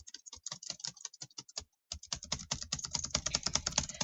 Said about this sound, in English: I love the sound of keys